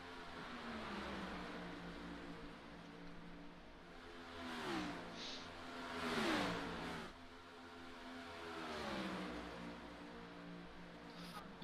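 In the iRacing sim racing game, a race car engine drones steadily and rises and falls in pitch as it revs through gear changes. The engine is the only sound, with no talk.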